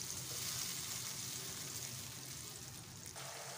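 Tomato paste fries in a pan, giving a soft, continuous sizzle that stays low and steady, easing slightly toward the end, with no talking.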